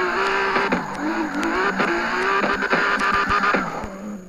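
Engine whine and tire squeal from a drifting car in the video game CarX Drift Racing 2, a continuous loud revving tone with shifting pitch and scattered clicks throughout.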